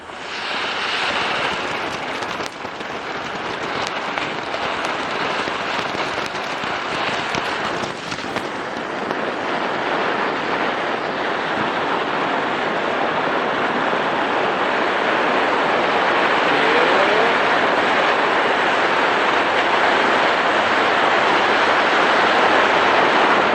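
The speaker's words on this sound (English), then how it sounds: "Here's our short but sweet firework lineup" Consumer safe-and-sane fireworks burn in Pacifica: crackling pops in the first few seconds give way to a long, steady spraying hiss that grows slightly louder and holds close by.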